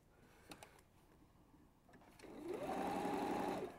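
A sewing machine stitches down the side of a lining. After a quiet start, a close, steady whirring hum runs for about a second and a half before stopping.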